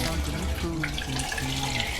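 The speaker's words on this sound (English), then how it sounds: "And so it's draining." Water drains steadily through a freshly cleared main sewer line and laundry standpipe, giving a continuous gurgling rush that holds at an even, fairly loud level for about two seconds.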